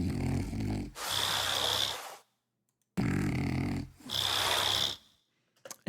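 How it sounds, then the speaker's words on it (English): Dinosaur creature sound built from a recording of a pug snoring: two long, loud rasping snore-like growls, each a deep rumbling inhale giving way to a harsher hissing roar, separated by a short silence, with a faint click at the end. "I actually found a nice little recording of a pug snoring."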